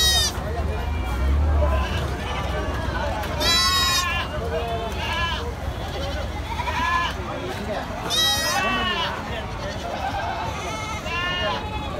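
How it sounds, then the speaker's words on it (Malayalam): Goats bleat repeatedly at a crowded goat market in Kerala, where young goats are being bought. The harmonic cries rise loud and close over a steady babble of voices and market noise. "ഇതൊക്കെ തമിഴ്നാട്ടിലേക്ക് പോകുന്ന ആടുകളാണ്"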